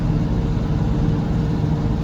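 A desert-colored Oshkosh military vehicle rolls past with a steady, loud low engine drone and road rumble that holds constant over a couple of seconds.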